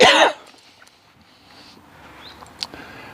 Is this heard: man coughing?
yes